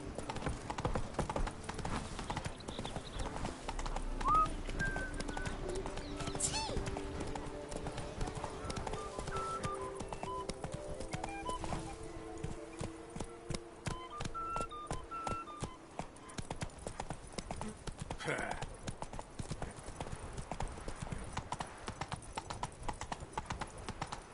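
Roach, Geralt's horse in The Witcher 3: Blood and Wine, trots with steady, crisp clip-clopping hooves throughout, accompanied by a soft musical tone and brief murmured voices.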